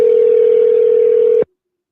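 A phone line tone plays as a call is placed, one steady continuous electronic tone held loud and alone for about a second and a half before cutting off abruptly.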